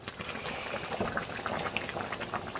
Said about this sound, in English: Sizzling hot